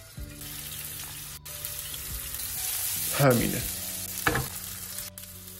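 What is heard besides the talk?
meat frying in oil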